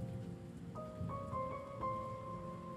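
Rain in the survival horror game Remothered falls as a steady patter, with sustained tonal notes from the game's ambience layered over it and no voices.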